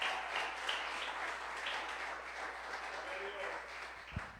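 A church audience applauds for its pastors, a dense continuous patter of many hands clapping at moderate distance, steady throughout with a faint voice beneath.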